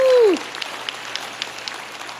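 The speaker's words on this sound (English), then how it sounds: "How about another round of applause for those graduates for 2025?" A short falling vocal whoop gives way to faint, scattered clapping from the audience at a nursing graduates' pinning ceremony, continuing sparsely in the background.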